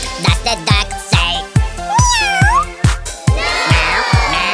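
A cat meows repeatedly in a quick, rhythmic series of loud, close, plaintive calls, some rising and falling in pitch, with no talking.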